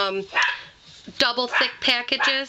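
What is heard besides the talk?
dog barking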